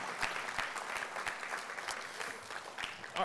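Audience applause at a SUNY AI symposium greeting news of $40 million in funding for UAlbany, steady dense clapping from a sizeable crowd throughout, moderately distant and continuous.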